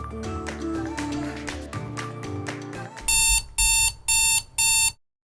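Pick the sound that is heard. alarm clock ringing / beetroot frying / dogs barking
alarm clock ringing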